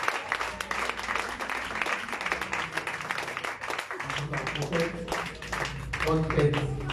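A church congregation applauding in acclaim of the Lord: sustained, dense clapping from a crowd throughout, with voices talking and calling out over it.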